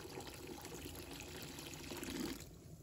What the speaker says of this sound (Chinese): 再倒入温水没过花生